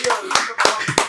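Hands clapping in a short run of four sharp, close claps at an uneven pace, with a voice heard around them.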